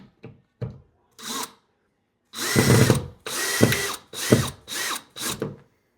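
A power drill drives screws into a TV wall mount in short bursts: a few brief blips, then several louder, close whirring runs of about half a second each, with small pauses between them.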